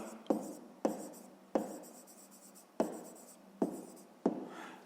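Pen strokes on a school notebook page during a fifth-grade maths exercise, a series of about six sharp taps or scratches spaced irregularly, each followed by brief softer writing noise, close and fairly quiet.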